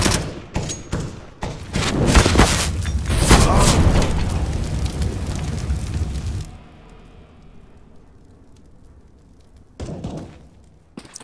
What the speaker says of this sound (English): Grenade out. Deploying flashbang.